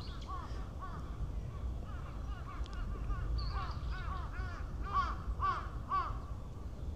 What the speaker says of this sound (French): On entend bien les corbeaux.